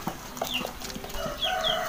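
A chicken sick with a cold or flu makes short, faint squeaky calls and rasping sounds over a quiet background, with a few thin high chirps.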